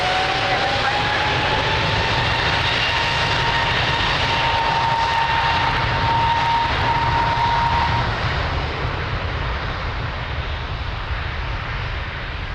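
Jet airliner taking off from Lisbon Airport runway 02, a loud, steady broadband engine roar with a faint whining tone that holds for about eight seconds, then slowly fades as the aircraft climbs away.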